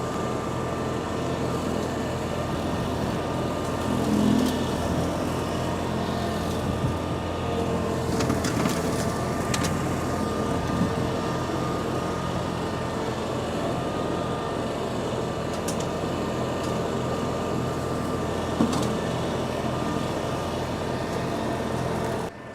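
An Iseki SRA950F ride-on brushcutter runs steadily on a slope, chewing through vegetation with a constant, loud engine drone and grinding blade noise, with no voices.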